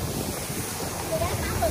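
A sea breeze buffets the microphone on a boat trip in Singapore, making a brief, steady rush of wind noise with water sounds underneath.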